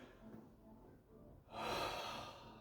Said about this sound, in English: If we find that patients breathe with their upper body and chest